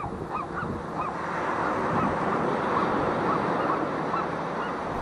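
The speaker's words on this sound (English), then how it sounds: "First he gives him a couple squawks" A harbor seagull lets out a couple of honking squawks over steady wind and surf on the Morro Bay waterfront, the calls loud and fairly close.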